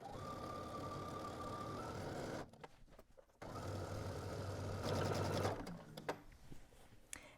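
A sewing machine stitching a seam in fabric, running in steady whirring bursts with a short pause midway, then speeding up again before slowing near the end; close and fairly quiet.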